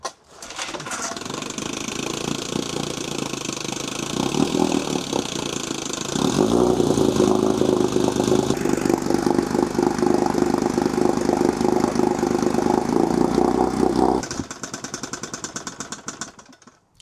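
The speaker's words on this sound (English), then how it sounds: "we got this engine in a decent spot. It's starting to show signs of wanting to idle" A 70-year-old outboard motor running roughly, a loud uneven mechanical drone that rises in pitch midway as the throttle changes, then settles back toward a rough idle before cutting off.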